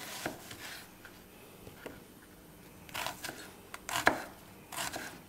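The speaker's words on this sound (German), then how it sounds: "der Papa schneidet schon mal die Zwiebeln" A knife chops onions on a cutting board in a home kitchen, a few sharp, close thuds at irregular intervals with brief pauses between, no talk.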